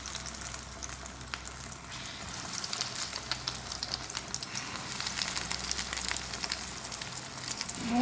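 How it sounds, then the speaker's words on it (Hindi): Chicken and potato kababs frying in hot oil give a steady, close, continuous sizzle and crackle that holds evenly throughout, with no voices. "बाकी भी चिकन और आलू के कबाबों को फ्राई कर लेंगे"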